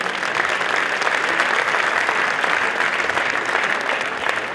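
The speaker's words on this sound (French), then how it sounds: "vos applaudissements pour Johan" Audience applause for an honored athlete at a regional sports-of-the-year award ceremony: a thick, continuous wash of clapping from a large hall crowd, steady and fairly loud from start to finish.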